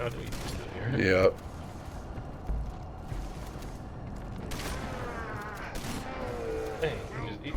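Video game gunfire crackles in bursts of rapid shots through the middle of the clip, with people talking and reacting over it.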